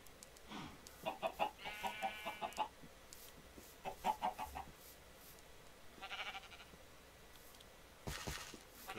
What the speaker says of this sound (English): Chickens near us.